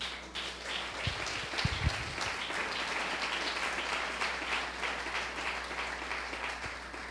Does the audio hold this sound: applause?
yes